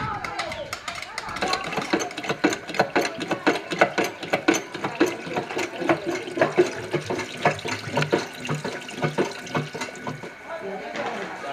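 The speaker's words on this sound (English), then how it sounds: "presser is also locally fabricated, and it's also manual operated" A locally fabricated, hand-operated cassava mash presser works in a farm processing setting, giving off a steady run of clicking, ratcheting mechanical knocks and creaks with a wet, sloshing undertone, close and continuous.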